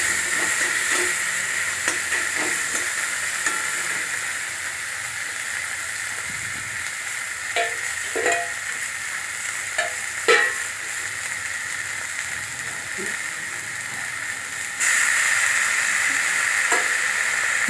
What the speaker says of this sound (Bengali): পেঁয়াজগুলো একটু খুন্তি দিয়ে ঘেটে দিলাম।